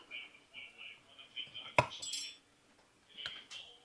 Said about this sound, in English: I'm going to mix this cranberry sauce.